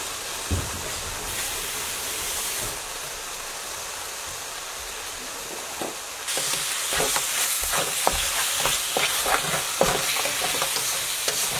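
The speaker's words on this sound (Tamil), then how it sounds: "நல்லா ஹை ஃப்ளேமில் வச்சு நல்லா ஃப்ரை பண்ணுறேன்." Mutton for a dry mutton peratal fries on a high flame with a dense, rushing sizzle that turns louder partway through, while close scraping clicks of stirring repeat throughout and no one speaks.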